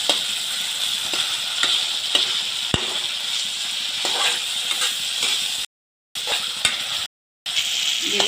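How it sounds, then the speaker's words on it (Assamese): Tomatoes frying in oil with Kashmiri red chilli powder, stirred in a pan for a fish curry: steady loud sizzling, broken by regular scrapes of the spoon, with no talk. "এইখিনি ভালকৈ লৰাই তেল বিৰিঙি অহালৈকে ভাজি ল'ম"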